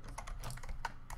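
Computer keyboard typing while writing Python code, a quick burst of crisp, close, fairly quiet keystroke clicks in an irregular rhythm.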